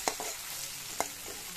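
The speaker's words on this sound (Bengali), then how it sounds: "তো এই যে দেখো, আলুটাকে একটু আমি ভালো করে ভেজে নিচ্ছি।" Potatoes coated in turmeric fry in a pan, with a soft steady sizzle broken by two sharp scraping stirs from a utensil. The sound is close but fairly quiet, with no voices.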